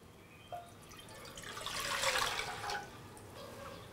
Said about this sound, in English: now I'm going to add 700 ml of fresh water.